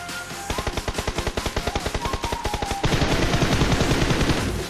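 Rapid automatic gunfire in the battle royale game BGMI, a fast rhythmic burst of evenly spaced shots close up, followed by a denser, rougher volley of overlapping fire; no talk over it.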